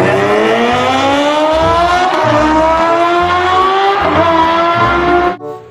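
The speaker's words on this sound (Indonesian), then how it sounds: "Yang ini ada motor GP atau motor balap teman-teman ya." A high-pitched toy MotoGP racing motorbike whine climbs steadily in pitch with a rhythmic rattling underneath, then cuts off abruptly.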